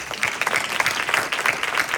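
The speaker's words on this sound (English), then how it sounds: "Give yourself a round of applause." Conference audience applauding together at a leadership event, a dense, steady round of clapping that fills the short span on its own without pause.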